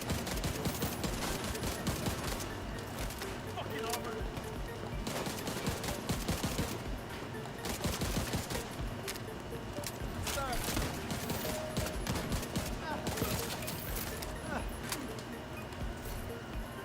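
Battle rifle gunfire in The Division 2 during a season 11 fast-firing RPM build, with rapid dense shots cracking continuously through a fight, mid-level and steady, while a player talks over it.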